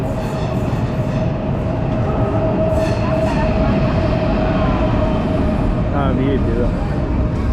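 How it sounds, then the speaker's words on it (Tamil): Loud, steady rumble of a high-speed passenger train in Uzbekistan, heard from the station platform with a constant hum throughout, while people talk nearby and a brief tonal squeal rises near the end. "இந்த ட்ரெயின் தான்."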